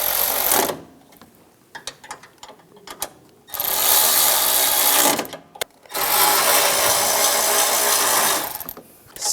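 Ratchet snugging the bolts of a radiator and condenser fan assembly on a 2004-2009 Toyota Prius, fast clicking bursts separated by quieter gaps with light handling noise, repeated several times up close.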